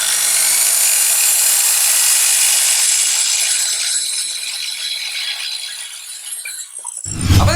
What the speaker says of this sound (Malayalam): ഇനി നമുക്കിത് കറക്റ്റ് നീളത്തിൽ നമുക്കൊന്ന് മുറിച്ചെടുക്കാം